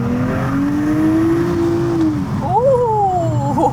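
A 2023 Nissan Z engine with an APEXi aftermarket exhaust revs high and holds, then drops and climbs again with a raspy, throaty exhaust note, close by.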